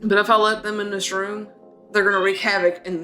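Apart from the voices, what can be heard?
None of the usual background noises is heard.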